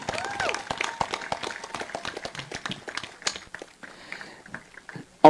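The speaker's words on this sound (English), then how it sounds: "Another round of applause for Miss Maureen Leslie." An audience applauds at an award ceremony honoring Belizean patriots: dense, steady clapping that thins out toward the end into scattered claps, heard from within the room with no voices over it.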